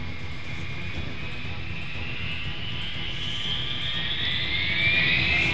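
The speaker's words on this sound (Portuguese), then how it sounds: "os pilotos começam a taxiar o avião na pista de decolagem." Air Florida Flight 90 airliner taxiing on the runway during snowfall, a steady engine roar with a high turbine whine slowly rising in pitch and growing slightly louder, heard close and without talk.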